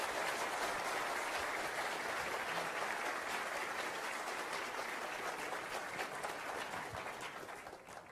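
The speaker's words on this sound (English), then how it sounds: "Dr. Spencer, please a round of applause for both of our presenters." An audience at a climate science talk applauds steadily, the clapping dense and sustained before it gradually thins and fades at the end.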